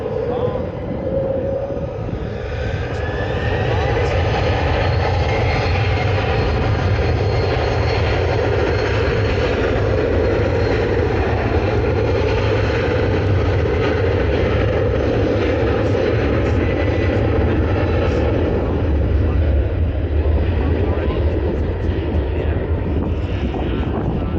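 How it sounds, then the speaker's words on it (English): An Air France Embraer regional jet makes a long takeoff roll at Manchester Airport, a steady broad engine roar holding for the whole stretch under wind buffeting, with some voices faintly in the background. "Oh wow, that is a long takeoff roll."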